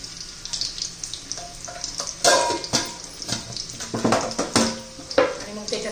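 Mustard seeds sputtering and popping in hot oil with garlic, loud sharp crackles and irregular bursts over a continuous sizzle, close up.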